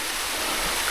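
A low-flowing waterfall with little water, producing a soft continuous rush and trickle heard close up, brief and steady without voices.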